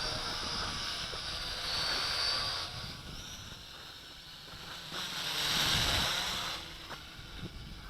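An HT F801C quadcopter drone with a camera attached flies about, its rotors producing a faint, airy whine that swells twice as it passes nearer, then fades back.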